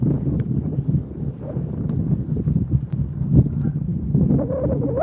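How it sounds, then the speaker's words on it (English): Wind blows across a low-tide shoreline where crabbing is under way, making a loud, continuous buffeting rumble against the microphone that swells and dips without a break. "It's a little slight wind, but it is what it is."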